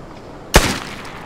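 A single sharp, loud gunshot from the online shooter game Vigor cracks out close by, followed by a short decaying echo, with no voices over it.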